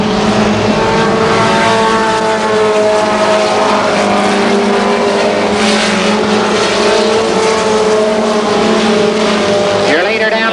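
Mini stock race cars on the track at Columbus Motor Speedway in 1990, engines droning loudly and continuously with shifting pitch as the pack runs laps, under a public-address announcer's steady talk.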